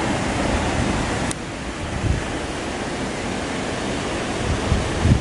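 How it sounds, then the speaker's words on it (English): Steady, dense rush of falling water, a continuous broadband roar with no voices, fairly close and unchanging throughout. "There's a waterfall there."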